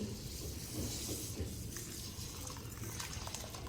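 About one and a half cups of water pour into a bowl of cumin seeds, a steady, close splashing stream that runs unbroken for a few seconds with no talking.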